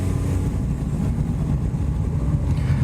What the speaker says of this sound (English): So let's do a couple of full throttle starts, see how much difference it's made